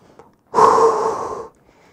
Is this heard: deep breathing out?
yes